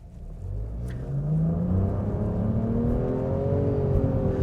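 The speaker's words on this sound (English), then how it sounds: "you can think of it as half of a V6 engine, and it makes a really interesting noise because of it" A 2025 Nissan Rogue Platinum SUV's three-cylinder engine pulls hard at full throttle, its loud, close drone climbing steadily in pitch with a couple of brief simulated shift dips, and no one speaking over it.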